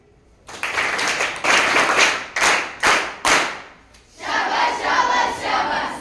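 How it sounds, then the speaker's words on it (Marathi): A classroom of children clapping together in praise, starting with a burst of clapping, then several rhythmic group claps in unison, followed by another round of scattered applause, fairly close and lively. "सगळ्यांसाठी शाबास टाळी"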